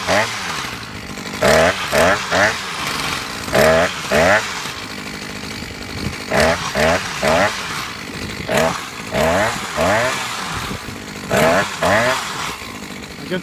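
Small two-stroke grass trimmer engine driving a power harrow attachment, revving in repeated bursts of a few seconds each and dropping back between them, loud and close throughout.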